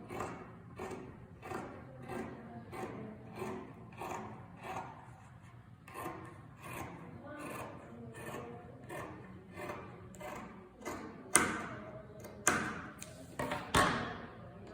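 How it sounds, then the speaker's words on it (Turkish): Scissors cut fabric for sweatpants along drawn lines, giving a quiet, rhythmic series of snips and rustles, with a few sharper thuds near the end and no talking. "Çizdiğim çizgilerden kesiyorum"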